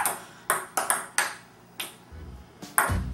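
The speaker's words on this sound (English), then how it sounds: "Did you hear the beat to Mario there?" Ping pong balls strike a table in a quick rhythmic pattern of sharp, bright pings that tap out the Mario theme beat, about a dozen hits in three seconds, close and alone.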